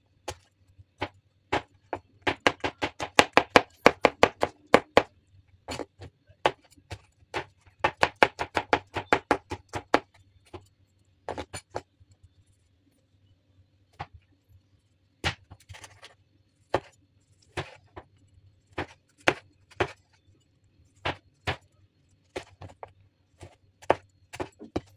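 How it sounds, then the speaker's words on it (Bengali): A knife chops cucumber and tomato on a cutting board, sharp knocks landing in quick rhythmic bursts, then slowing to scattered single cuts, close and clear with no talking. "এর সঙ্গে যে শসা এবং টমেটো লাগবে সেটা কেটে"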